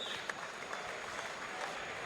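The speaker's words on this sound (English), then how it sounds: "Everybody, round of applause." Audience applause in a venue at an amateur fight night championship, a moderate, even patter of many hands clapping somewhat in the distance, with a few sharper claps standing out.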